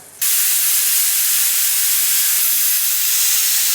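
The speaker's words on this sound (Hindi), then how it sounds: "इसमें जो भाप है उसको निकाल लेंगे।" A sudden loud, continuous hiss of steam bursts out of a pressure cooker and keeps blasting at full strength until the end.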